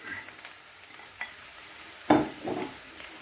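Fresh mushrooms, including shiitake, tipped into a hot pan with softened vegetables for mushroom risotto, giving a faint sizzle and a few soft stirring scrapes, with a sharper clatter and hiss near the end.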